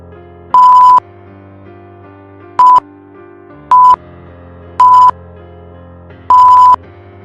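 Five sharp electronic beeps from a phone call that would not ring through ring out at uneven intervals over a low steady hum, each a short flat tone, loud and close.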